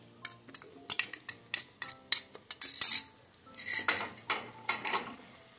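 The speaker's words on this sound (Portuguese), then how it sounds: "Dá mais uma refogada aqui." Bell pepper and tomato being stirred into a pot of green carioca beans with dried beef, a spoon scraping and clinking against the pot in quick, irregular bursts, close and fairly loud, with no talking.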